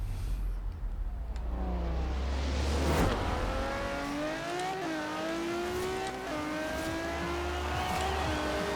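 A tuned race car in Forza Horizon 4 revs and accelerates hard, pitch sweeping up through gear changes, with brief tire squeal, loud and close with no talking.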